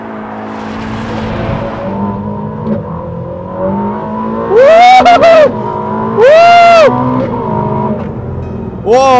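Ferrari SF90 XX, a 1030 hp hybrid, accelerating hard out of a corner on a race track, loud engine and electric motor whine rising in bursts of sweeping revs, with excited talking over it.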